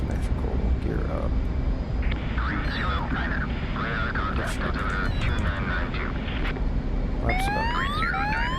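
An F/A-18C Hornet jet roars during takeoff in the DCS flight simulator at night, a steady loud engine rumble with radio chatter and tonal alert beeps over it.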